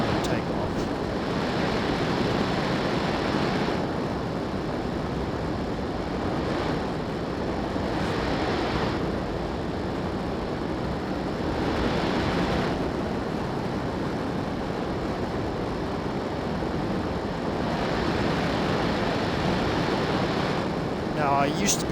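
Simulated F-18 jet engine roaring at full afterburner takeoff, a dense, steady broadband rumble that holds loud throughout with slight swells, a voice talking over it.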